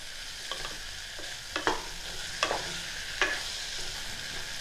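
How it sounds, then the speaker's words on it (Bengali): Ginger and garlic frying in a pan as the base for a mutton stew, a loud, steady close sizzle broken by several sharp scraping stirs of a spatula, with no voices. "আদা এবং রসুনের কাঁচা গন্ধটা যতক্ষণ না চলে যাচ্ছে আমি ভাজতে থাকব।"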